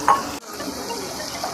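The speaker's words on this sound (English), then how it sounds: "we're going to first add our onions to cook those till they're nice and translucent" Onions sizzle loudly in a hot pan after a brief clink of a utensil, then settle into a steady close hiss of frying.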